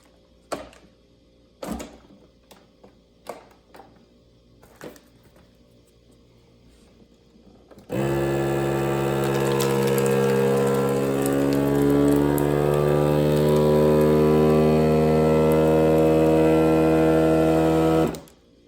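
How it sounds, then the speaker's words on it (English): A vacuum sealer runs steadily and loudly for about ten seconds while packing a bag of home-dehydrated meat loaf backpacking food, its motor humming until it cuts off, after a few quieter clicks and handling sounds at the start. "We're just going to throw this right in the vacuum sealer."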